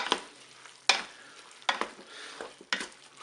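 Spaghetti with artichokes, chicken and lemon juice stirred in the pot of a Cookeo multicooker, giving four separate scraping, sloshing strokes with quiet pauses between them, close and fairly soft.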